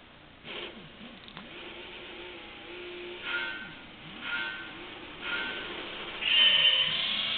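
Gran Turismo 3 or 4 race car engine revving in first gear up to about 6,000 rpm and shifting on its own, a faint, wavering engine drone with several rises and drops over a low background.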